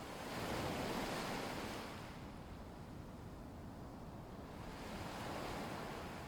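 Ocean waves washing in and out, a broad steady roar that swells, eases off, then builds again, with no voices.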